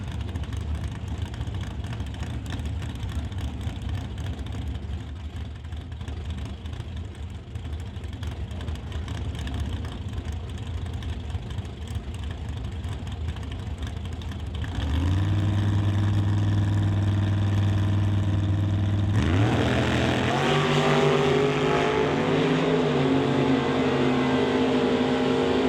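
A Ford Roadster and a hot shot dragster at a drag strip: a low, rumbling idle of engines gives way to a loud surge as the motors rev hard, then a second, even stronger roar of tone climbing up.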